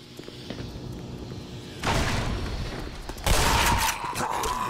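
Grenade blasts in Black Mesa: Xen, two loud, dense bursts of noise in quick succession rising over quieter game ambience and faint footsteps.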